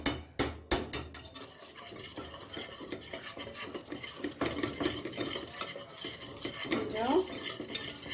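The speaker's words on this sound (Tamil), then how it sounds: "விஸ்கில் நல்லா கலரிக்கோங்க. கொஞ்சம் ஸ்லோ ஃபயர்லேயே வச்சு" A whisk scrapes and swirls butter and maida flour in a pan over a low flame, opening with a few sharp clinks against the metal and then settling into steady, close scraping strokes with no talk.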